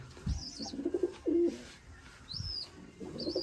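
Soft, low pigeon coos repeat close by in short throaty phrases, with faint chirps from other birds and a quiet background.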